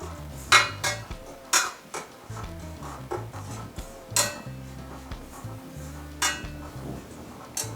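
Grated coconut is stirred with chili and coriander powder in a hot pan off the flame for an aavoli fish curry; a spoon clinks and scrapes against the metal in quick, uneven strokes, close and fairly loud, without speech.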